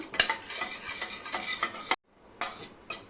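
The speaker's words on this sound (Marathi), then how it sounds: "मसाले छान तेलामध्ये परतून घेतलेत" Spices and turmeric stirred in hot oil in a pan, soft sizzling under a series of rhythmic scraping strokes from a spoon, with a brief pause near the end.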